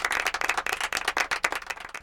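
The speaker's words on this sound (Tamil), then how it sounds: "அவர்களுக்கு ஒரு கரகோஷம்." A stage audience at a New Year Tamil debate show claps in a dense, steady burst of applause, close and fairly loud, with no talking over it.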